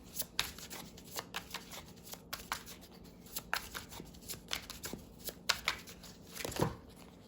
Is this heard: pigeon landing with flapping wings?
no